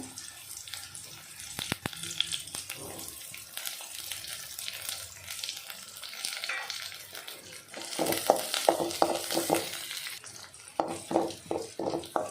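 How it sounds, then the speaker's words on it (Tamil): Mustard seeds, chopped onion and curry leaves drop into hot oil for a tempering for roasted-ground mutton kuzhambu, giving a soft crackle and sizzle that swells louder in the second half with a few sharp pops near the end. "ஆயில் சூடாகிடுச்சு கடுகு ஆட் பண்ணிக்கலாம் வெங்காயம் கருவேப்பிலை"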